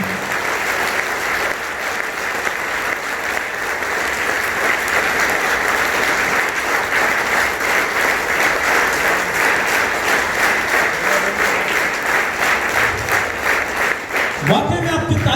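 Sustained, loud applause from a large audience at a direct selling industry presentation in Nagpur, continuous thunderous clapping throughout with a brief burst of other sound near the end.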